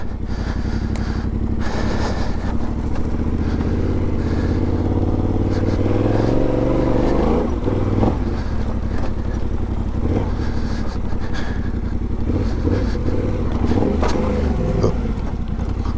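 A 2021 Yamaha Tenere 700 engine growls and revs loudly up close, with a clattering thump partway through as the bike hops over a log and bottoms out.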